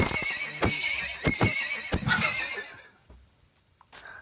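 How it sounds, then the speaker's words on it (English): A real-sounding horse in a video game gives a loud, drawn-out whinny over sharp clip-clop hoofbeats, fading to near quiet before a brief faint call at the end. "I don't like the horse sounds."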